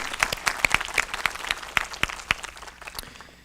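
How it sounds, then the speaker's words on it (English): Audience applause at a school district press conference, a dense run of sharp claps that stays steady before thinning out toward the end, moderately loud with no voices on top. "Yeah, that's worth applauding."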